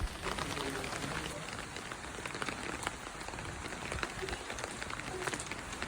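Steady rain patters on surfaces close by, a dense continuous hiss with scattered drips and no talking.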